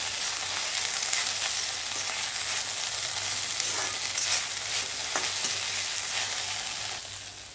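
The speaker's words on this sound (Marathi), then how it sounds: "व्यवस्थित अशी ही एकदा परतवून घ्यायची आहे" Okra stir-fried in a pan with salt and coarsely crushed peanuts, a loud continuous sizzle with occasional scraping strokes of the spatula, close and without any talking.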